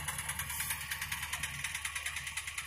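An MTZ-80 tractor with an MVD-900 spreader casts saltpeter fertilizer over frozen, thawing ground. A low, quiet engine hum runs under a fast, regular ticking from the spinning spreader.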